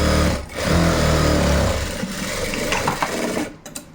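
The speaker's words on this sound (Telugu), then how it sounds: "ఇట్లా ఒక మూడు కుట్లు అయితే వేసేసేయండి" Sewing machine stitching the side seam of a blouse, a loud close whirring run of the needle that stops midway, followed by softer mechanical ticks and fabric handling.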